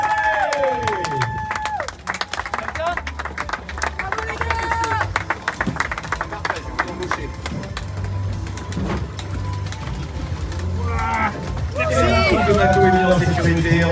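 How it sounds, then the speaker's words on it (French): Audience clapping and cheering for sailors arriving at the honour pontoon at the end of the Amarris race, a broad crowd din under an announcer's voice that swells louder near the end. "En tout cas, on peut les applaudir."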